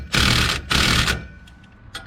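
A pneumatic impact wrench hammers trailer wheel bolts on a Wells Cargo trailer during a brake and bearing job: two loud, rattling bursts close by, then a few short faint taps.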